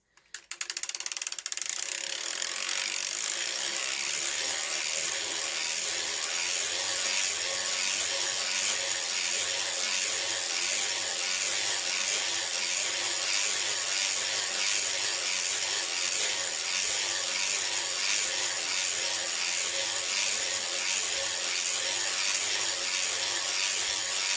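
A circular sock machine being hand-cranked to knit a long sock leg, producing a loud, continuous rapid ratcheting clatter of needles and gears that runs steadily without pause, with no voices.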